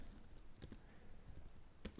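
Keystrokes on a computer keyboard while entering a DOS command: a few scattered, soft clicks with a sharper tap near the end, quiet and alone.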